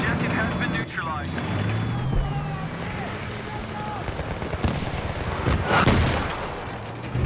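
Gunfire and explosions during a multiplayer battle on the Kharg Island map, with scattered shots and booms under a constant roar of combat, while players talk over it throughout.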